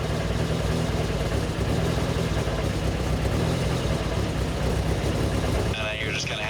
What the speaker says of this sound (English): But the idle's a little jumpy with it at 10.